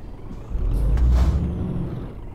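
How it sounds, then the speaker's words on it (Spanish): A truck in Euro Truck Simulator 2 starts up and pulls away: a low engine rumble rises with a sharp hiss of air releasing in the middle, steady and close, with no talk. "Pulsa E para arrancar el camión."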